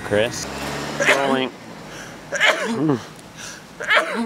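A sudden sneeze bursts out amid people talking, followed by more speech nearby.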